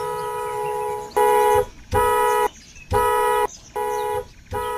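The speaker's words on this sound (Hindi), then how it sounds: "कौन है जो इतनी तेज हॉर्न बजा रहा है?" A loud, harsh car horn blares in four long blasts separated by brief pauses, close and piercing.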